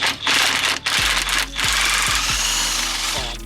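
A power tool rattles loose bolts on a Fiat Panda 100HP in a series of loud, close bursts, with a few sharp clunks in between.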